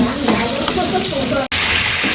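Puti fish and amra curry being stirred and sautéed in a pan in a village kitchen, a loud close sizzle with scraping stirs and a brief cut near the end.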